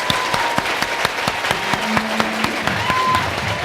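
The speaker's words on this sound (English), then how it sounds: "So, clapping. 1, 2, 3. Clapping wildly." Conference audience clapping wildly, a dense continuous patter of many hands with a few sharper claps standing out, loud and close.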